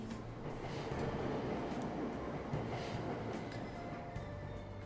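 A train ride in the video game Persona 5 Royal comes through as a faint, steady rumble of rolling carriages with soft clacks of wheels, continuous and low throughout.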